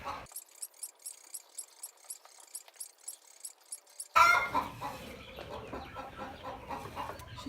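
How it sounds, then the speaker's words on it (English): A hen's egg song rings out on a farm during hand milking: repeated rhythmic clucks and cackles in a steady series, then a louder, busier burst of cackling with other farm noise joining partway through. "That noise you hear is a hen singing her egg song"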